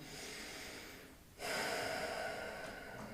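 A person draws a sharp, deep breath through the nose during a shoulder-focused yoga flow in warrior two, a close, brief inhale rising after a quieter moment, with no talking.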